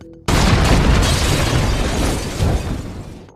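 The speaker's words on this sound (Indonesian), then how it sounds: "hingga bom itu pun meledak." A bomb explodes suddenly and loudly after a brief quiet moment, then a long rumbling roar that slowly fades.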